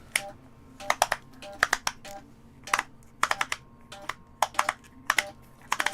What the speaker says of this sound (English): so it snaps into place with the ball bearing